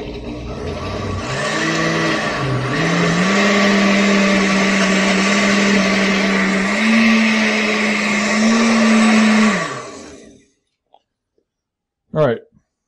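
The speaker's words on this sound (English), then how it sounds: "so let's get this blended up" Blender running for about ten seconds while blending a green smoothie with cilantro, a loud steady motor whir whose pitch shifts as it spins up and settles, then stops abruptly, followed by a brief bump.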